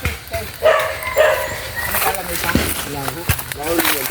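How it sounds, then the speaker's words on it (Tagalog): A dog barks a few times at a distance while people talk nearby on a farm, with scattered rustling and outdoor noise. "Nagat pa yung aso."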